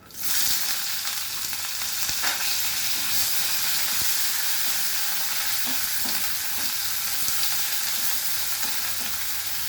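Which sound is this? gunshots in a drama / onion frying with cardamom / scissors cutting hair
onion frying with cardamom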